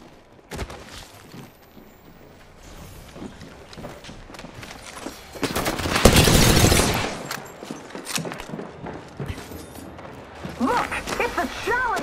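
Gunfire rattles through Apex Legends gameplay as a Season 19 Horizon match unfolds, with scattered shots building to a loud, dense burst around the middle, under an ongoing mix of game sounds and character voice lines.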